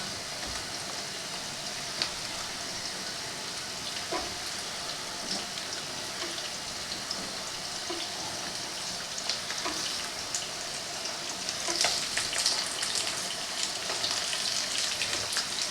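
Green chillies and tomato drop into okra frying in a pan, bringing a steady close sizzle and crackle that swells a little toward the end, with faint stirring scrapes and no talk.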